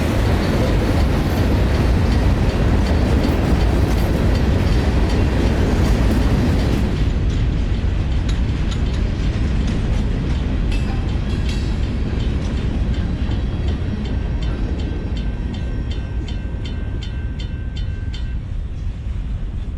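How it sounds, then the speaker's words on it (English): Heavy CSX AC-44 diesel locomotives pull a train past at close range, a loud continuous engine roar and rumbling rail noise that shifts to steady clattering wheels and squealing as the cars roll by. "something about the low number AC-44 locomotives just intrigued my interest"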